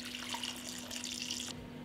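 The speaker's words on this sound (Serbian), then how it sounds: "Sipat ću vodu do visine poklopca" Tap water runs steadily into a cooking pot holding glass jars, filling it to the height of the lids with a soft, continuous splashing that stops near the end.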